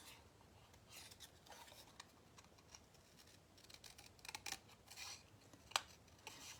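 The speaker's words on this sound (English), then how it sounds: "hold your scissors in place and then turn the paper while you're gently putting" Scissors snipping through paper while cutting out a pop-up card image, quiet and close, with soft irregular clicks and small rustles as the paper is turned, no voices.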